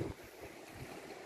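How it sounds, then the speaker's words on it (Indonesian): Ocean waves crash against rocks at Segara beach in Kuta, Bali, under an overcast sky: a steady rushing wash with low thumps of surf and some wind buffeting the microphone, no voices. "Ombak-ombak menghantam bebatuan sehingga menimbulkan suara gemericik."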